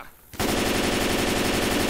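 Sustained automatic gunfire from the video game Left 4 Dead 2 starts abruptly after a brief quiet moment, then rattles on as a loud, rapid, unbroken burst.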